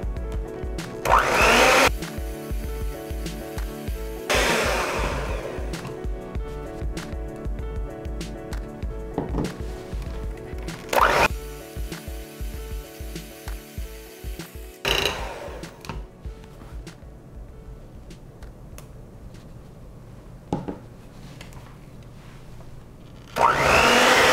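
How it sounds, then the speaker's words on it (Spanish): An electric mixer whirs loudly as eggs are beaten one by one into New York cheesecake batter in a bowl, its steady motor drone broken by several louder surges and pauses. "vamos a mezclar los huevos uno por uno"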